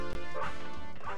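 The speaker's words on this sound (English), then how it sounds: "we have to go down here and bark" Two loud, close dog barks in the video game Space Station Silicon Valley, harsh and clipped over a busy background of game music.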